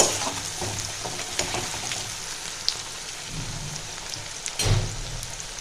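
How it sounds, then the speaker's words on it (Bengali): Chopped onions frying in very hot oil for a mutton curry with potato and papaya, a steady broad sizzle and crackle with a few louder surges, heard up close with no talking. "তেলটা আমার খুব গরম হয়ে গেছে, আমি পেঁয়াজ দিয়ে দিচ্ছি।"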